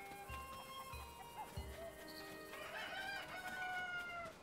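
A rooster crows in Zelda: Tears of the Kingdom, its drawn-out call rising over a low steady background, preceded by a few soft thumps and clucks.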